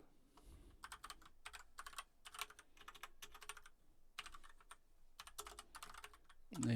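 Bursts of fast clicking keystrokes on a computer keyboard while code is typed, in short runs separated by brief pauses, close and fairly quiet.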